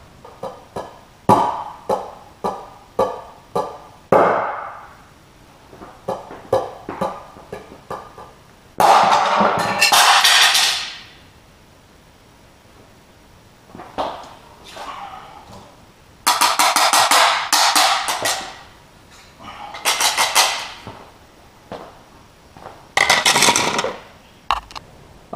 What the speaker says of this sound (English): here's a demonstration of a crane beak strike on a 2 millimeter thick melamine